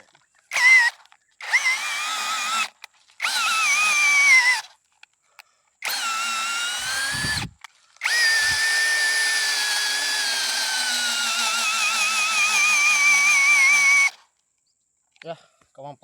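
A power drill powered by a Modern 20V 4Ah battery whines in repeated bursts, short runs first and then a long sustained spin with slight pitch wavering, separated by silent pauses.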